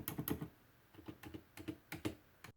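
Keys on a WASD V2 TKL keyboard with silent switches are typed in a quick, irregular run of soft, muted clacks, close up and alone.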